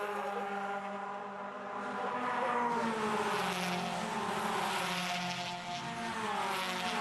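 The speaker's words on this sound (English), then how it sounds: "They sound cool coming down through turn 1 there, don't they?" Toyota 86 race cars in the 2018 racing series at Phillip Island stream past one after another through turn 1, a continuous loud roar of many engines with shifting pitch as the large field files by.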